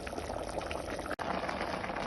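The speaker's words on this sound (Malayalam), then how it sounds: "ആ അരപ്പ് ഇതിനകത്തോട്ട് ചേർത്ത് നല്ലതുപോലെ മിക്സ് ചെയ്ത് ഇപ്പൊ തിളച്ചുകൊണ്ടിരിക്കുകയാണ്" Thick jackfruit curry with ground coconut bubbles and blips quietly in a pot, a soft steady simmering with a brief dropout midway.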